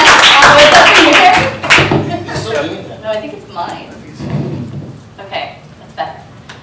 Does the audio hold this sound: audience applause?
yes